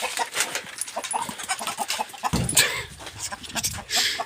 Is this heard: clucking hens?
yes